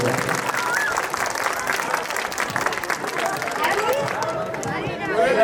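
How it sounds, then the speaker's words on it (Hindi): Strong applause from a school audience welcoming performers, continuous and close, mixed with crowd chatter and voices, swelling slightly at the end. "चालो जोरदार ताली से स्वागत करो तुम्हारा।"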